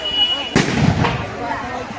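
A single sharp firecracker bang bursts out during Chhath Puja evening festivities in Bihar, followed by a crackling rumble that fades slowly, with a voice faintly in the background.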